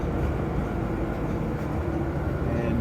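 Ottawa LRT light rail train passing with a steady rumbling roar of wheels and motors, continuous and fairly loud throughout without any voices.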